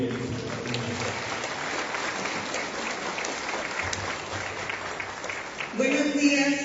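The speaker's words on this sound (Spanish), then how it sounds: "recibamos con un fuerte aplauso a mi compañera Silvia González López de Cuatro Vientos" Attendees at an informational assembly on electrical reform give a round of applause, steady crowd clapping lasting several seconds, with a voice and a low hum rising near the end.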